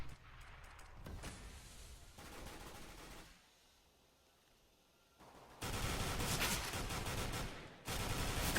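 FAMAS rifle fire during a competitive CS:GO match, loud bursts of rapid automatic shots broken by a quieter lull, then heavy sustained firing close by.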